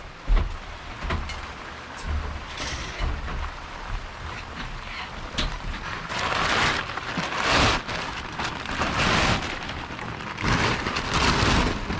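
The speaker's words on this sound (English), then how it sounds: "it's starting to rain." Rain falling on a treehouse metal roof, a dense steady patter with louder surging gusts of drumming, close and alone with no talk.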